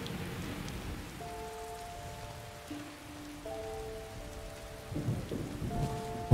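Video-game rain falls in a steady hiss while low thunder rumbles, with sustained tones running through it and a louder swell near the end.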